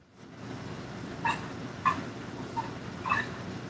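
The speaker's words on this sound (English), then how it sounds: "My dog's very affectionate." A dog whimpers in a few short, high, whiny cries spaced over a few seconds, close by against a quiet room background.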